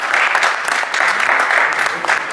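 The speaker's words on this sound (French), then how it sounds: "Il faut l'applaudir, il a besoin de ça." An audience at a school sports event applauds a player as his name is called, a short burst of close, dense clapping sustained evenly across a couple of seconds.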